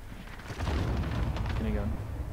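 Cluster strike explosions boom across the battlefield of the video game Call of Duty: Modern Warfare, rumbling bursts rolling in under gameplay sounds, with a brief tonal in-game cue near the end.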